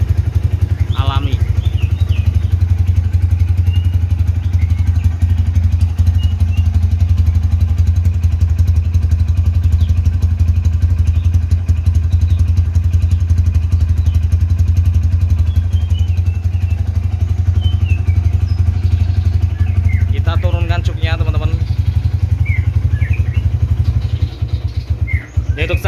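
A 2013 motorcycle idles with a steady, loud, low engine hum that holds evenly throughout, with a few bird chirps faintly above it near the start and end.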